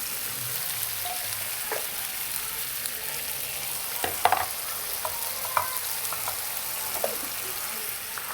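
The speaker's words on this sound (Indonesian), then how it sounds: "Ini minyaknya karena masih panas ya, jadi kita langsung masukkan cabai yang di blender sama saya tadi ya." Blended chili paste dropped into hot oil in a pan, giving a steady soft sizzle and crackle with occasional stirring clinks, close and moderately quiet.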